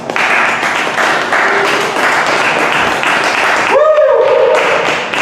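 Steady applause from a crowd fills the clip, with a voice briefly speaking over it near the end.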